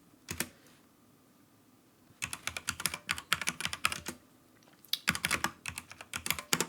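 Terminal commands typed on a computer keyboard, close and crisp, in several quick bursts of rapid clattering keystrokes broken by short pauses.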